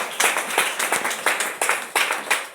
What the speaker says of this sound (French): Est-ce qu'on va acclamer Jésus?